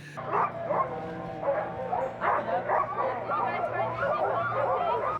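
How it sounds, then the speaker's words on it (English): Sled dogs at a summer dog-sled camp in Skagway, Alaska, bark, yip and whine excitedly in a close, energetic chorus, with people talking over them. "At the top, you get to meet the sled dogs."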